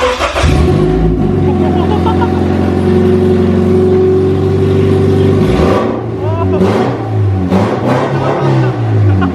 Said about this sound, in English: That's basically open header. That's what it would sound like, open header.